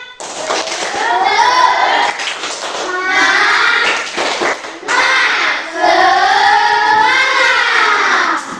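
Schoolchildren in a classroom chant together in loud bursts while doing a rhythmic clapping cheer, the claps mixed into their energetic group voices.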